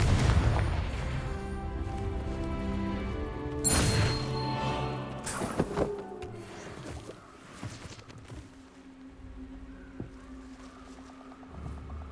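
Confringo blasting spell explosions in Hogwarts Legacy, two sharp loud bursts a couple of seconds apart with rumbling debris trailing off into quieter ambience.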